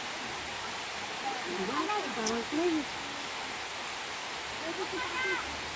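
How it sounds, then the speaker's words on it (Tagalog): Rushing water from a waterfall in Guinayangan, Quezon Province, Philippines makes a steady hiss that is faint and distant, with people talking over it. "rinig mo na yung lagas-lasan tubig"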